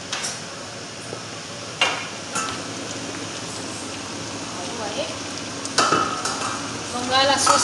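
A Togolese Adémédéssi sauce cooks gently in a pot, giving a steady soft simmer broken by scraping stir strokes and a few louder clinks, with a voice briefly present.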